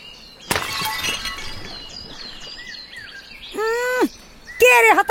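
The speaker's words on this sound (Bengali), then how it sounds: "একদিন আগের মতো দুষ্টুমি করে পাড়ার বুড়ি আন্দি পিসির জলের কলসে হঠাৎ ঠন করে ঢিল ছুঁড়ে মারল" A thrown stone strikes a clay water pot with one sudden sharp crack, followed by a brief clatter. Birds chirp in the background, and two louder bird calls come later.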